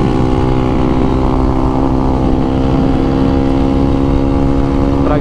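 A Yamaha Lander 250 motorcycle being ridden, its engine droning steadily with strong low harmonics and constant wind rush, loud and close for several seconds.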